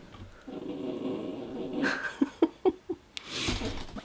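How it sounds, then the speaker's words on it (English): A puppy growls at an older dog indoors, a low rumbling growl followed by a string of short sharp yips or barks, then a brief scuffle, all close by. "puppy is a little bit mean to the older dog that I have"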